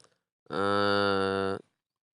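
A single loud, sustained cow moo lasting about a second at the Tiruppur cattle market in Tamil Nadu, rich and harmonic, close by and clear, with near silence before and after.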